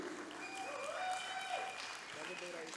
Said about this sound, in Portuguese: Vamos aplaudir ao Senhor pela vida do Felipe.